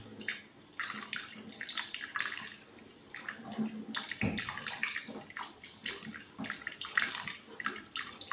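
Water is poured into a container while dishwash liquid is being made, a close, splashy running stream that sputters and surges irregularly throughout.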